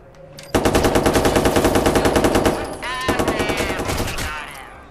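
Gunfire in the video game Watch Dogs 2 comes as a loud, rapid automatic burst of evenly spaced shots, close and dense, followed by a second, shorter run of firing before it trails off.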